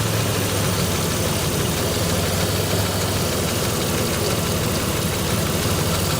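Close up, a 1987 Buick Grand National engine idles steadily, a dense continuous low rumble with even pulsing and faint knock-like ticking that holds at constant loudness, with no voices over it.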